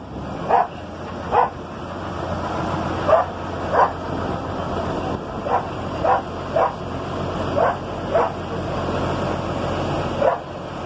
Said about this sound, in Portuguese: Nós temos um amigo aí, um cachorro,